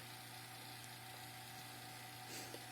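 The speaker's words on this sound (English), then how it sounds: "So now it's vacuuming, and the gauge is at about 26 or 27 inches of mercury." A vacuum pump drawing down the coolant system of a 2019 Chevrolet Corvette C7 ZR1 during bleeding, producing a faint, steady high-pitched whine and hum that continues unbroken without talk.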